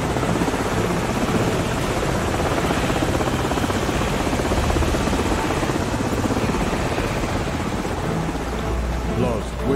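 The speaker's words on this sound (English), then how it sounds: "Enemy helicopters, get on the sides now." Enemy helicopters in a military video game mod roar steadily overhead, a dense, loud rotor and engine drone that fills the whole stretch with only slight swells.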